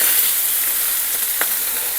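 Beef chunks sear in a hot pan for beef bourguignon, giving a steady, loud sizzle throughout with a brief sharper crackle near the middle; no talking.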